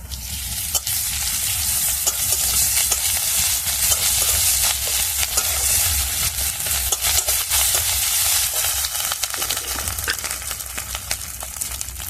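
Ginger paste fries with browned onions in a pan, a loud, continuous sizzle broken by frequent stirring scrapes and clicks, with no talk.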